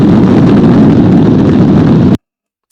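Loud, steady engine roar from a motorcycle, a dense broadband drone held evenly for about two seconds before it cuts off abruptly into silence.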